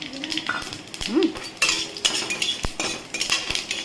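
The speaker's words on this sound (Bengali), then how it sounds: "এই তেলেই আমি যে গরম মশলাগুলো তোমাদের দেখেছি সেটা ফোড়ন দিলাম।" Whole garam masala spices hit hot oil in a pan after frying potatoes, giving a steady close sizzle with scattered clinks and scrapes of a metal spoon stirring.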